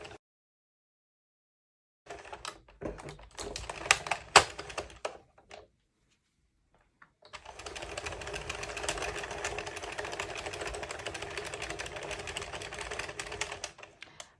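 An Addi or Sentro circular knitting machine cranks rounds of red yarn for a beanie, giving a brief stop-start clatter and then a steady, busy mechanical rattle that runs for several seconds.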